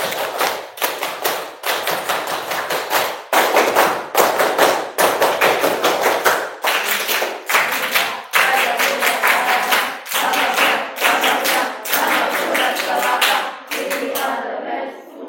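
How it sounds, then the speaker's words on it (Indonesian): Schoolchildren performing a scout clap in unison at an elementary school religion lesson, loud sharp claps in a repeating rhythmic pattern with brief pauses between phrases. "Kita satu kali dulu. Tepuk pramuka."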